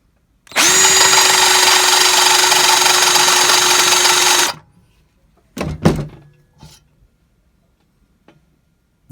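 A power drill spins a valve seat grinding stone on a pilot in a 460 EFI cylinder head, a loud steady whine for about four seconds that then stops, followed by a few faint clunks.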